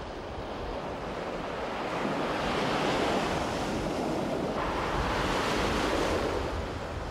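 Sea waves break steadily beneath the white chalk cliffs of Møn on the Baltic Sea, a continuous loud wash of surf mixed with wind buffeting the microphone, and no voices.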